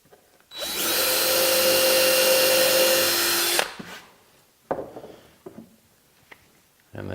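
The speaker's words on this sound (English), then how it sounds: "Then I'll pilot drill them" A power drill runs steadily for about three seconds, pilot drilling holes in wood for a sled rack. It stops abruptly, followed by scattered clicks and taps.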